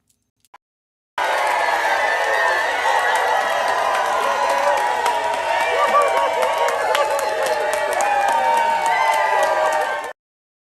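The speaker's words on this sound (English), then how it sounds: "This round of applause is for you" A studio audience breaks into sustained loud applause with cheering and whoops, a dense wall of clapping that holds for about nine seconds and then cuts off.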